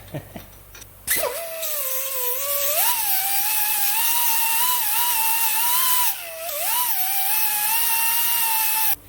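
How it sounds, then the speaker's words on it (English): A power grinder works a cast metal bolt down to bare metal, a steady high whine running nearly continuously with one short break before resuming, close and loud. "I forgot to grind that. That'd probably be a good idea."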